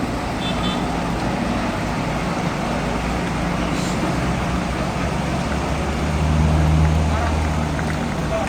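A Laju bus on the Surabaya–Banyuwangi route rolls into Purabaya bus terminal amid traffic, a steady low engine rumble that swells slightly near the end, with a muffled voice in the background.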